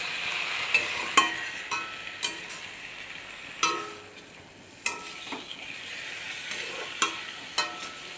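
Spice paste cooked down with tomato puree in a pan for a soybean curry, with steady low sizzling broken by sharp scraping stirs of a spoon roughly every second, close and moderately loud, no voices.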